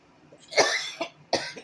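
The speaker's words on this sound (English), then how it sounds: "Instead of sneezing, I'm coughing." A person with allergies coughs, one harsh close cough followed by two shorter, throaty coughs in quick succession, with no talking.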